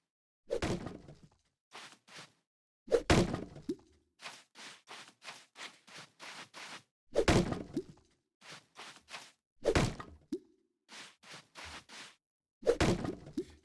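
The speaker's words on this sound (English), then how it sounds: "Now we need to destroy the barricades." Wooden barricades smashed apart in the video game Critter Cove: a series of sharp breaking and thwacking impacts at irregular intervals, several heavy crunches between lighter clattering knocks, with no talking.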